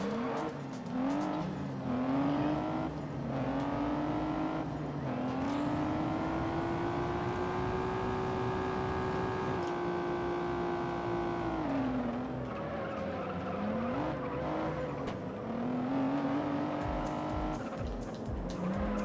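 A race car in the video game Juiced revs hard through sustained engine whine, rising and falling with gear changes, with tire squeals and skids mixed in, loud and continuous throughout.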